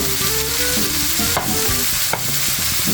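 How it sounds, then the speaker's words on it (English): Broccoli pieces go into a frying pan with beef and get stirred, giving a loud, close, continuous sizzle with a few scraping clicks from the utensil and no one speaking. "throw all our broccoli in there"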